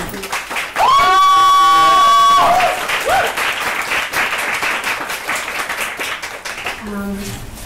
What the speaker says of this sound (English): So a round of applause for them again.